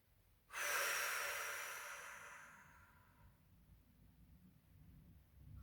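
One slow, deep breath is drawn in loudly and close during a relaxation exercise, its airy hiss gradually fading over a few seconds into quiet stillness.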